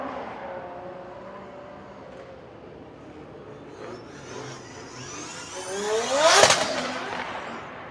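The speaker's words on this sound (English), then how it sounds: "Wow, a quite loud car by Karim Khani as he drove past us back to the pits." A loud drift car leaving a drifting competition run in Riga and returning to the pits, its engine rising in pitch as it closes in and peaking in a sharp, revving pass close by before trailing off.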